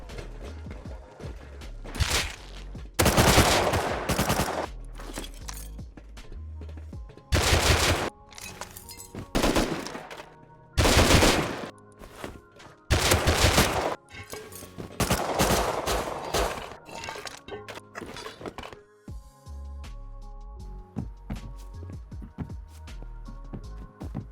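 Gunfire in the video game Rust as players clear traps inside a cave, with loud bursts and rapid volleys of shots separated by short pauses, alongside clicks and mechanical clatter.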